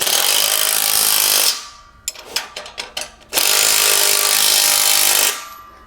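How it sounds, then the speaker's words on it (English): A three-quarter-inch wrench and socket tighten bolts on a tent trailer, with a long loud whirring run, then a few sharp ratcheting clicks, then another long whirring burst. "Tighten it down. Three-quarter-inch wrench and socket."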